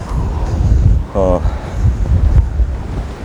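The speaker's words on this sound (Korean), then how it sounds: "살짝 닭살이 돋을까 말까 하는 정도의 바람이 많이 불고 있고요" Wind gusting across an open cruise ship deck on a South Pacific sea day, a steady loud rumbling roar with buffeting on the microphone, a brief voice breaking through midway.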